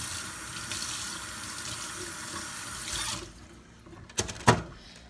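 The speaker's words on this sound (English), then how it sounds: "I rinse my meat" A kitchen tap pours water while turkey meat is rinsed in the sink. The steady running hiss lasts about three seconds, then stops, followed by a couple of sharp knocks nearby.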